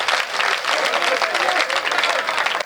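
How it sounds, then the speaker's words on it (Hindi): A large crowd at a Hindi kavi sammelan breaks into loud, dense applause that holds steady throughout, with the clapping close and continuous and a sharp knock right at the end. "अपने धर्म के लिए, अपने समाज के लिए तालियां बजाइए"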